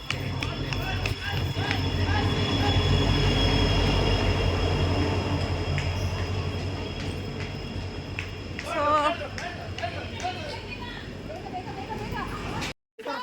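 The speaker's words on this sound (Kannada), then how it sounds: "ಸೊ ನಮ್ಮ ಟ್ರೈನ್ ಬಂತು, ಎಲ್ಲ ಈಗ ಓಡೋಗ್ಬೇಕು." A passenger train pulls into a railway station with a loud, sustained rumble and rolling wheel noise that builds and then slowly fades, while voices murmur among the waiting crowd.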